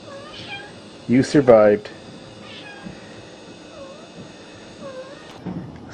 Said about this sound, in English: You're doing great, kitty. 1 week old today.